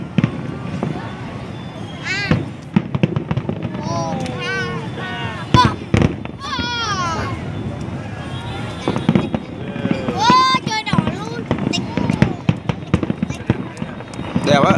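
Fireworks launching over Da Nang, with repeated cracking bursts and whistling rises, loud and close, while spectators chatter throughout.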